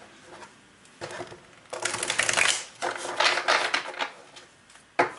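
A tarot deck is shuffled in bursts of crisp riffling and card flutters, close and fairly loud, with a quiet pause at the start and a sharp tap at the end.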